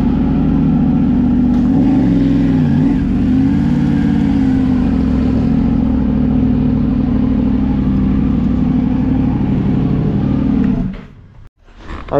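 A Yamaha Lander 250 motorcycle rolls slowly into a garage. Its steady mid-pitched engine drone runs close and loud for about eleven seconds, then cuts off abruptly, leaving a brief quiet.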